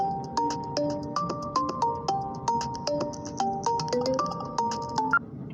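A phone rings for an incoming call, playing a looping electronic melody of bright, evenly spaced notes at moderate volume, with no talking.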